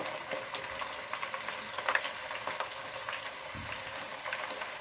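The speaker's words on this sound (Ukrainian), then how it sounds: "Перемішую і продовжую смажити буквально ще 3-4 ну хвилинки." Steady crackling sizzle of potatoes frying in a pan, with a few louder pops and occasional stirring scrapes, fairly close.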